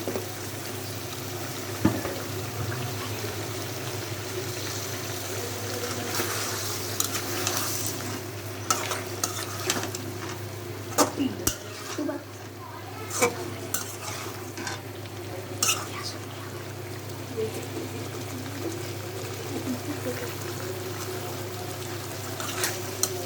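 Potatoes, with fish about to follow, frying in a pan for a singi fish bhuna with onion and tomato give a continuous moderate sizzle, broken by scraping stirs and occasional clinks, with no talk.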